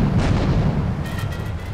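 Grenade blasts in the video game Grand Theft Auto III, loud and dense, with a heavy rumbling boom throughout and a second burst of crackling debris toward the end.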